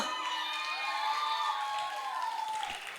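Children at a school dance-festival anniversary in Udupi cheer and shout together, a sustained high-pitched crowd roar that holds steady throughout.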